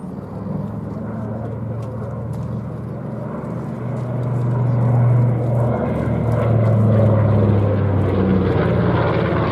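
A B-25J Mitchell bomber flies past at a Flying Legends air show, its radial piston engines giving a steady deep propeller drone that swells gradually in loudness, with faint talk in the background.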